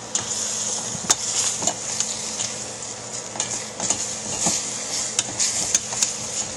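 Carne asada sizzles and browns in a hot oiled pan, a steady bright frying hiss with occasional pops and scraping stirs, close and loud.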